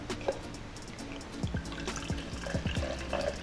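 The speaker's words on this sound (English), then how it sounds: "the last thing that we're going to do is add water into our mixture here." Unflavored sparkling water pours into glasses for a blood orange mojito mocktail, with soft liquid trickling and a few distinct drips and splashes near the middle of the pour.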